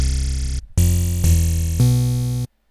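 A wet bass synth patch built in Massive sounds a buzzy, harmonically dense tone, first a short held note, then a brief gap and three loud sustained notes played back to back before cutting off abruptly.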